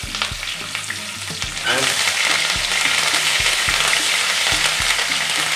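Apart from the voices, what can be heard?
frying garlic paste, curry leaves and mustard seed in pan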